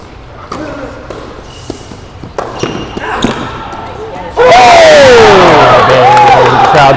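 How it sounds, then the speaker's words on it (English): A doubles match crowd erupts into loud cheering and whoops midway, following a few sharp ball hits and thuds, with voices talking throughout. "The crowd goes wild."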